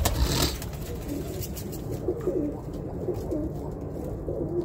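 Early-breeding pairs of Birmingham Roller pigeons coo softly inside a loft. The low, repeated murmuring sits under a steady background rumble, and a brief rustle comes near the start.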